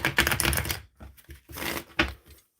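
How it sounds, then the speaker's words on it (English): Tarot cards are shuffled during a live reading, with two quick bursts of dense crisp riffling clicks separated by a brief pause, close and fairly loud, with no speech over them. "shuffling for Catwoman, L8J."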